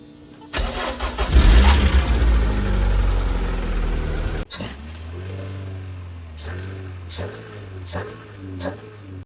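A petrol engine transplanted into a scrapped 20k-mile electric car cranks and fires up, roaring loudly for a few seconds before dropping abruptly into a steady, close idle with a few brief clicks over it.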